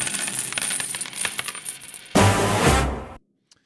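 A coin drops and rattles against a hard surface, then spins and rings loudly before stopping abruptly, close up.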